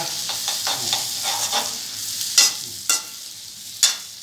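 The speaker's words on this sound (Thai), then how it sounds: "อ่าให้มันเหลืองๆนี้นะครับเนี่ยผัดไปนะครับผัดไป" Egg being stir-fried in a hot pan, giving a loud, close sizzle with a run of quick spatula scrapes, then three sharp, separate scraping bursts near the end.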